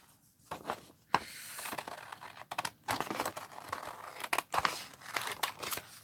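Scissors snip through clipboard material in a series of close, crisp cuts with crinkling and rustling between them, quiet and irregular.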